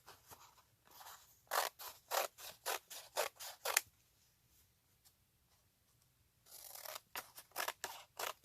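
Scissors cut through book pages for a junk journal, trimming them to size: two quick bursts of crisp, rhythmic snips, about seven close cuts each, with a quiet pause between them.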